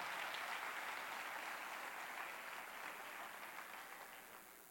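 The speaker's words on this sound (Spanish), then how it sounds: "denle un fuerte aplauso al Señor" A church congregation at a Spanish-language service applauds in a steady, sustained wash of clapping that tapers slightly toward the end, with no voices on top.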